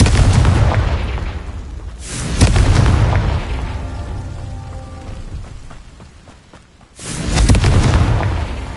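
In Hogwarts Legacy, a Confringo spell lets off loud, booming explosions. Two heavy blasts with rumbling tails come a few seconds apart, with crackling debris and a ringing tone in the quieter stretch between them.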